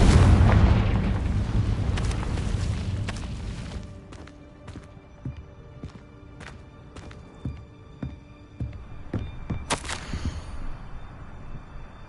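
A Confringo blasting spell in the Hogwarts Legacy video game goes off as a loud booming explosion and then fades. Scattered sharp pops, crackles and thuds follow, with another burst near the end.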